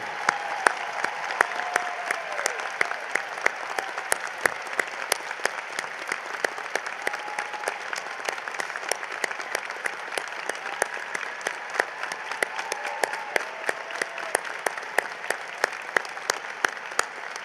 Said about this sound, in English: a round of applause and thank them for their service to our country